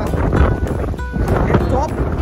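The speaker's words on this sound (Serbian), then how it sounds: "Ubija vetar na Marsu." Strong wind on a Hawaiian coast buffets the microphone in loud, uneven gusts and rumbles, with a person talking over it.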